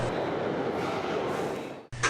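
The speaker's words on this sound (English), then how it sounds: "here's a look at busy Newark Penn Station as a train to Princeton Junction comes in" A New Jersey Transit commuter train with bi-level coaches pulls into busy Newark Penn Station, a loud, steady rolling rush of wheels and rail noise that cuts off sharply near the end.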